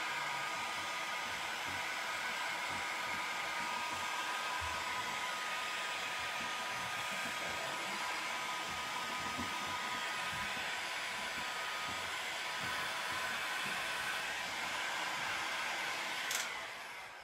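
A heat gun blows steadily while heating a wood U-bend moulding, a continuous airy whooshing hum held for a long stretch, close and even, with a brief click near the end.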